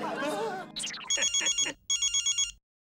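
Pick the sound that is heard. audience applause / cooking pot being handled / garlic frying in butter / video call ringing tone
video call ringing tone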